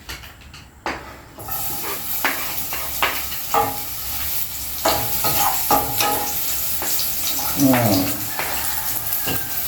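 Ginger, garlic, onions and tomato sauté in a pan, sizzling steadily while a utensil scrapes and stirs in repeated strokes, close by; one short exclamation from a voice.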